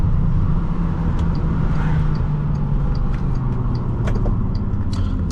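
A 2008 Bentley Continental GT with gentle throttle gives a steady, deep engine drone heard from inside the cabin, with road noise and a few faint clicks and no talk.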